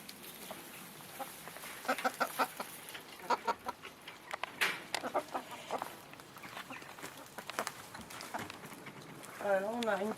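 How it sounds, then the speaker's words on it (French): Laying hens clucking and murmuring inside a straw-bedded chicken coop, with scattered short calls at moderate distance, a soft rustle underneath and a voice talking quietly throughout. "Là, on a une poule qui est en train de couver."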